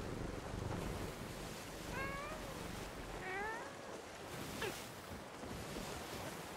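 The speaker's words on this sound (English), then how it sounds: "There's another kitty." A cat meows three times in the Sea of Thieves game, the calls short and rising, set over a steady wash of ocean waves and wind.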